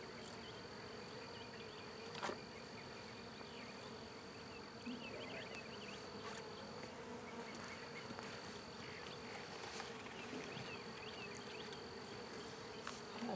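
Angry swarm of bees humming continuously with close buzzing passes and a few small bumps, faint and steady, with no voices.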